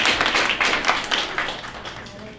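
Audience claps for the singer at a Rabindra Sangeet evening, a dense, close wash of hand claps that starts loud and slowly tapers over a couple of seconds.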